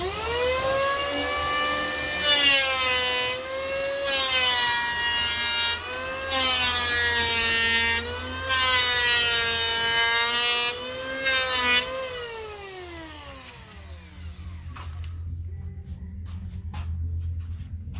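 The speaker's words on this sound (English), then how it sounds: "I'll just flatten out the planer so that I'm running that angle through there" Electric hand planer shaping the angled edge of a door, a loud, steady high whine with periodic dips as passes are made, then spinning down and fading near the end.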